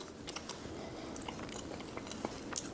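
A roasted chestnut being chewed close to the mic, with soft, steady mouth sounds and small irregular crackles and clicks, no talking.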